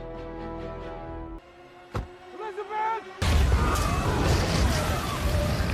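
In a Jack Ryan spy thriller, after tonal music and a brief voice, a sudden loud explosion bursts in and leaves a heavy, roaring rumble that keeps going.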